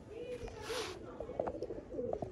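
Show-quality pigeons from a loft in Sialkot coo softly at close range, a few low throaty burbles rising and falling, with a short rustle early on.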